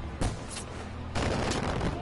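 Mortar and gunfire in the video game Far Cry. Two loud bursts of explosive fire come close together, with a dense rumble between them and faint voices underneath.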